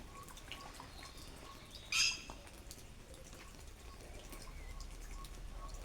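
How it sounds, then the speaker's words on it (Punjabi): Rain falls steadily outdoors with a continuous soft patter and scattered drips, plus one brief louder splash near the middle; no voices are heard. "ਮੀਂਹ ਪੈ ਰਿਹਾ ਆਪਣੇ"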